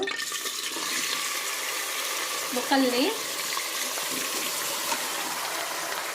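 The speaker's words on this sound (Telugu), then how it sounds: "వాటర్లో బాగా క్లీన్ చేసుకోవాలి" Goat head meat pieces being washed in water, a swirling, sloshing churn of water and meat that runs steadily with a brief louder slosh midway, while a voice speaks briefly.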